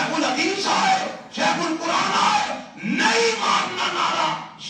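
A crowd at an Islamic religious gathering shouts slogans in three loud, close surges of massed voices, each swelling and then briefly dipping.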